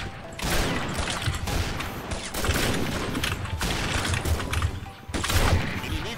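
Gunfire in the Combat Arms online shooter, dense rapid bursts of shots and mechanical clatter running continuously at moderate loudness with no talking.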